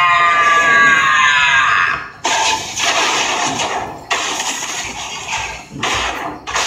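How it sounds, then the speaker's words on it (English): A loud, shrill scream with a falling pitch lasts about two seconds, then gives way to heavy crashing and rumbling bursts. "A loud, horrific scream was the last sound"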